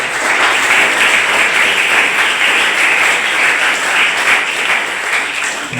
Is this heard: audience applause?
yes